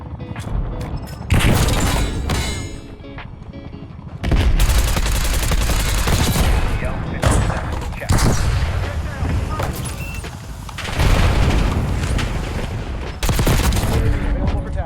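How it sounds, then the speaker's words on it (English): Continuous loud gunfire and booming explosions fill a Black Ops 6 hardpoint match, with a grenade blast among repeated bursts of automatic fire. Dense and close throughout, with game voices talking underneath. "See if this nade gets him."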